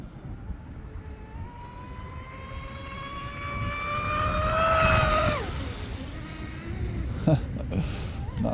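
A DIY M700 mono-hull RC boat runs on the water on its maiden run, its motor whining with a rising pitch that swells and peaks before falling away as it passes, heard from a moderate distance without talk.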